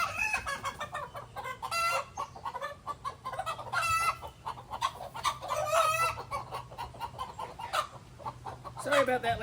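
Hens in a chicken coop cluck and squawk nearby in irregular bursts, some calls rising into louder cackles, over a low steady hum.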